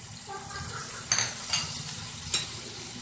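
Ground spices tossed into ginger-garlic paste frying in a pot, a soft steady sizzle with a few sharp scrapes and clinks of a spoon against the pan, close and fairly quiet.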